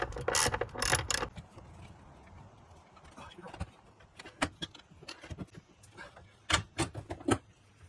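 A 13 mm socket ratchet works loose the battery hold-down bolt in a C8 Corvette, with bursts of rapid close clicking and metallic clatter, some sharp isolated knocks between, and no talking.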